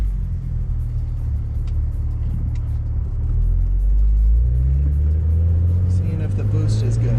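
A BMW 335i with the N54 engine on a test drive after maintenance, its engine a loud steady low rumble that climbs in pitch as the car accelerates through the second half.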